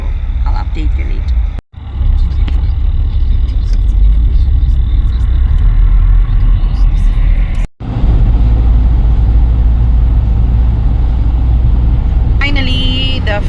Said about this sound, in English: We have traffic, guys, for almost 25 minutes.